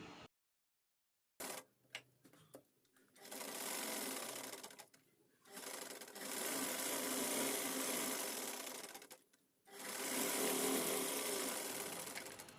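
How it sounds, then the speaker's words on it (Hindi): Sewing machine stitching the elastic-gathered sleeves of a layered umbrella frock: several bursts of steady, close whirring, the longest runs lasting a few seconds, separated by short pauses with faint handling clicks. "स्टिचिंग करते हुए हमने पूरी स्लीव्स को तैयार कर लिया है"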